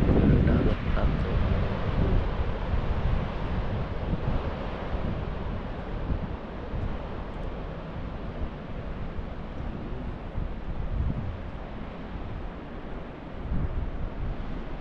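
Sea waves and steady wind at a coastal lookout at Paritutu, New Plymouth, New Zealand, a constant broadband rush with heavy wind buffeting on the microphone, loudest at the start and easing slightly.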